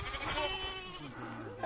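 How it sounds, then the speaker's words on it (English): A single goat bleats in short wavering calls among Mucubal herders in rural Angola. It sounds close but fairly quiet, with soft background noise around it. "Bad goat."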